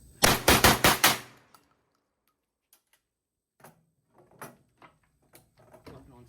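A Core 12 gauge semi-automatic shotgun is fired rapidly during break-in, loosing a quick burst of about five loud, close blasts. Scattered quieter mechanical clicks and handling noises follow in near silence.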